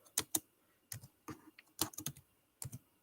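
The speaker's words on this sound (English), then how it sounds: "Let me just type that for you." Short bursts of computer keyboard typing, close and crisp, with several separate clusters of keystrokes and quiet gaps between them; no one talks.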